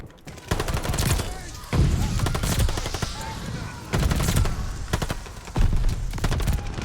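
An MP40 submachine gun fires in a video game in several long, loud bursts of rapid shots broken by brief pauses, with faint talk under the gunfire.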